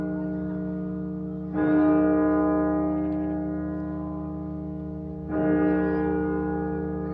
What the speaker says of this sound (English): his agents started ringing the bells of York Minster